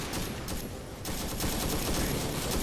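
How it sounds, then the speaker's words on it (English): Sustained automatic gunfire and overlapping shots in a Vietnam War multiplayer video game, a dense continuous fusillade with a brief lull near the start before the volley resumes, loud and steady throughout. "Here's that gunfire."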